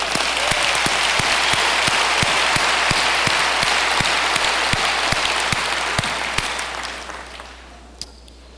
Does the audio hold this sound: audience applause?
yes